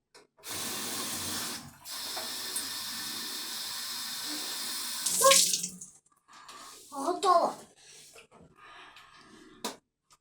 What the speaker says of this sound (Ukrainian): відкриємо і зараз будемо набирати воду